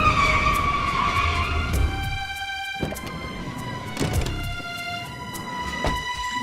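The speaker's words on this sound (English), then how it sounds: "The silence is broken by the sound of an automobile braking and a car door being opened and closed" In a visual novel game scene, a car brakes with a squealing tone that fades, followed by a few separate heavy thunks of a car door being opened and shut, close and distinct against a steady electronic hum.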